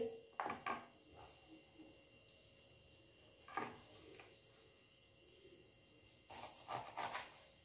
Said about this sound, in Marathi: ही भाजी अगदी बारीक चिरून घ्यायची आहे।